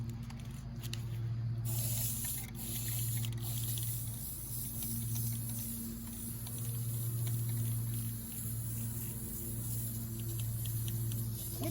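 Spray paint hissing steadily onto a black pipe desk in repeated long passes, close and continuous, with a low hum underneath.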